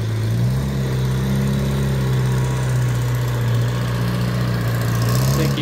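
A Husqvarna power tool engine runs steadily in a wood yard while someone trims, a continuous droning hum at close range with no talk.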